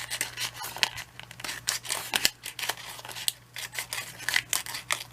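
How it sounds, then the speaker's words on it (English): Repeated crisp snips of scissors cutting a thin paper cupcake liner, with rustling, close up, a steady low hum underneath and no talking. "grab your scissors, make a little incision there, and then cut your center out"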